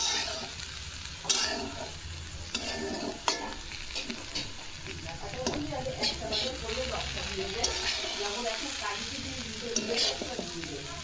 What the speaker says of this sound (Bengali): তারপর আলু ভাজাটা নেড়ে নিই